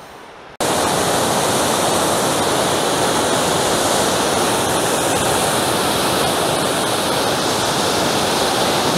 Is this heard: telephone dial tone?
no